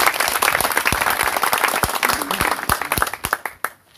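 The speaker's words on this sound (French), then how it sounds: "Applaudissons pour le Seigneur." Congregation applauding in a church service, a dense burst of many hands clapping that thins into a few scattered claps before stopping.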